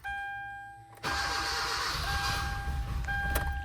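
A car with a suspected blown head gasket cranks and catches about a second in, then runs rough with a steady, uneven engine roar close by; a tonal beep sounds before the engine starts and again near the end.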